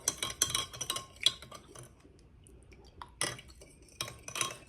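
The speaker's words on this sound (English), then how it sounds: "We're going to give that a stir, and we're just going to set it aside." A spoon clinks and scrapes against a glass bowl while stirring sugar into olive oil for bagel dough, in irregular bursts of bright taps with quieter pauses between, close and clear with no talking.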